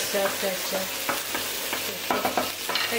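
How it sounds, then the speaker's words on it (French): Squid grills in a hot pan with a soft, steady sizzle, punctuated by repeated close scraping and stirring knocks, no talk. "elle évite de brûler les calamars"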